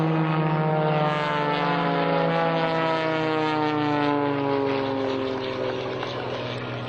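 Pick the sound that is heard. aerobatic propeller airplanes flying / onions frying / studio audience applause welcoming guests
aerobatic propeller airplanes flying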